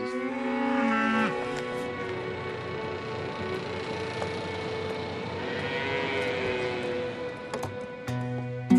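Cows on a ridge-top farm overlooking Seneca Lake moo in long, drawn-out calls over steady outdoor background noise, with a few lows spread across the scene at moderate distance.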